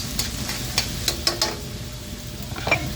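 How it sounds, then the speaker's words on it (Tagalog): Garlic and onion sauté in a hot pan while being stirred, with a steady sizzle and several sharp scraping clinks of the utensil against the pan, close up. "Gisa na natin ang ating bawang sibuyas."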